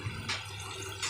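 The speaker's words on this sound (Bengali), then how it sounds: "এই তো একটু পানি দিয়ে দিব" A little water poured into a pot of chicken and potato curry, heard as two short, soft splashing bursts about a second apart over a low, steady kitchen hum.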